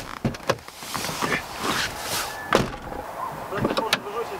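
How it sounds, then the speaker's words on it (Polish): A Jeep Grand Cherokee ZJ's doors open and shut in a few sharp thuds and clicks at close range, mixed with faint handling noises and scattered background voices. "Bardzo podoba mi się też dźwięk zamykania drzwi"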